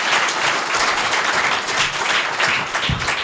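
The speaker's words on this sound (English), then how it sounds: "I'd like to do a round of applause for the" A conference audience applauds a manufacturing panel, giving a dense, continuous round of many hands clapping at once, loud and sustained throughout.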